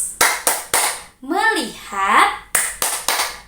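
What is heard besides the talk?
rhythmic hand clapping, the 'tepuk fokus' classroom clapping game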